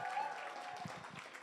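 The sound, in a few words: audience applause for the hotel staff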